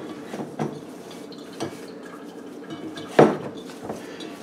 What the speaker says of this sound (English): Now, give it another really good mix.